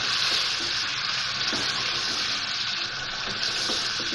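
Marinated chicken frying in a pan for chicken aloo salan, a steady loud sizzle that continues unbroken throughout with no talk.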